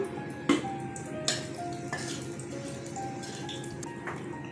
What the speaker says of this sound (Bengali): কড়াইতে তেল দিয়ে দিচ্ছি। তেজপাতা, শুকনো লঙ্কা ফোড়ন দিলাম।